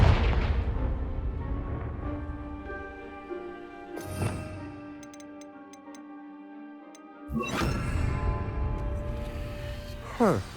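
Confringo fire spell blasts in Hogwarts Legacy, two sharp booming bursts a few seconds apart over steady orchestral game music, with a soft ticking patter in between.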